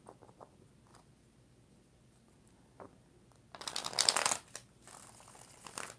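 Tarot cards are shuffled close up: soft scattered handling ticks, then a loud riffling burst lasting about a second, followed by quieter flicking.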